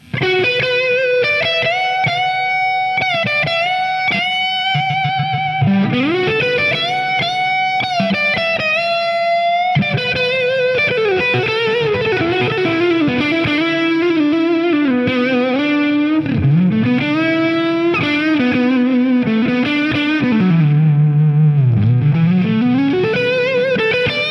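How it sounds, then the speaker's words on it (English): Distorted Les Paul electric guitar through a cranked amp playing a singing lead line with bends and sustained notes, loud and saturated, continuous throughout with no talking. "Let's see if we can get some of these kind of classic lead tones out of the Les Paul"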